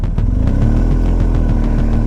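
A heavy 400 kg motorcycle rides a narrow, winding mountain pass road near Singla Pass in Zanskar, its engine thrumming loudly and steadily up close with a rhythmic low pulse and some clatter.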